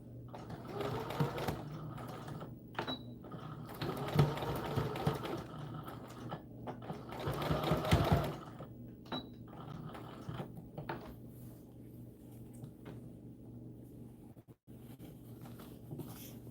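Sewing machine stitching a seam on a doll dress, running in several quick bursts of rapid mechanical chatter separated by short pauses, close and fairly quiet.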